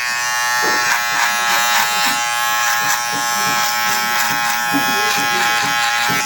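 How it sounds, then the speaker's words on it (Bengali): An electric hair-cutting machine buzzes loudly and continuously up close as it trims the side of a head for a shaved design, with someone talking over the steady drone. "এই সাইডটা হালকা করে কেটে দেবো এই মেশিন দিয়ে"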